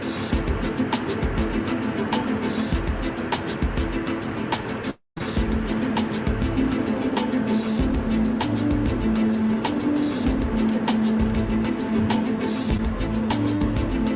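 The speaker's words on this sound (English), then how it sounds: "It's really hard to be filming in the car here because the road is rough, patched up all over the place" Inside a car driving along a rough, patched road, the engine and tyre rumble drone on steadily with faint rattles and bumps, broken by a momentary dropout.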